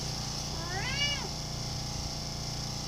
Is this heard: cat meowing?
yes